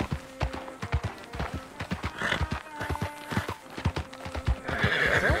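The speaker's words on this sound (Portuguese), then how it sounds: "Arrumei um cavalo." A horse in the video game Red Dead Redemption 2 clip-clops in a steady, rhythmic trot and gives a clear neigh, close and distinct throughout.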